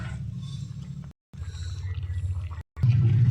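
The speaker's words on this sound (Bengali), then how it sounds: "পরিমাণ মতো জল দিয়ে দেব" Water is poured steadily into a pan of braised chicken cooked with whole garlic, a continuous close, low splashing flow broken by two brief pauses before it resumes a little heavier.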